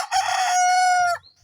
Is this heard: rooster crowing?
yes